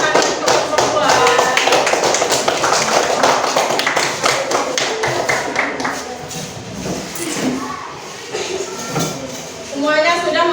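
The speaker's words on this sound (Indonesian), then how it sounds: "Berikan tepuk tangan untuk kelompok 2." A classroom of sixth graders gives a round of applause for the second discussion group during a math lesson, with dense, loud, continuous clapping and some voices mixed in.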